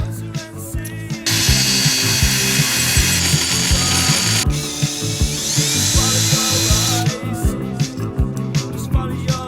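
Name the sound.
drilling a small hole in a homemade forearm grip handle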